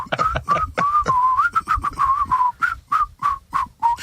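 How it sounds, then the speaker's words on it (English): A person whistles a quick, choppy run of short notes, each one punctuated by a sharp percussive tap, close and loud for about four seconds. "Whistle!"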